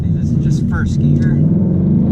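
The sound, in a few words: Ford Mustang engine accelerating in first gear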